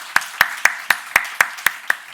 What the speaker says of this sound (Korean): 부활하신 주님께 영광과 감사의 박수를 올려드리시겠습니다